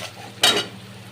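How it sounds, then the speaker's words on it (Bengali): Capsicum, onion and spices being stirred in a pan for egg fried rice, a single brief scrape of the spatula over a soft steady sizzle. "ভালো করে সব কিছু নেড়ে চেড়ে নিতে হবে।"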